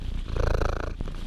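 A house cat purrs up close in a steady, rhythmic rumble, soft and continuous with a faint bump near the end.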